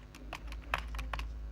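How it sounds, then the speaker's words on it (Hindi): A computer keyboard is pressed rapidly during a Minecraft session, a quick irregular run of several close key clacks over a steady low background hum, with no talking. "मेरा कीबोर्ड को मैं ऐसा दबाया हूँ ना गाइस"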